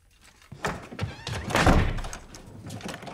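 A door thumps shut in a haunted-house drama series, a single dull closing impact followed by muffled movement and a brief final knock at the end.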